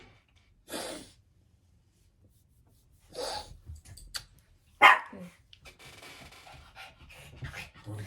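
Dogs give a few scattered barks and yips in a quiet indoor space, along with panting, snorting and rustling as they play.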